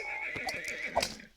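Horses whinnying in the real-time strategy game 0 A.D. during a battle with camel archers, a faint high neigh that rises at the end, with light hoof clip-clop underneath.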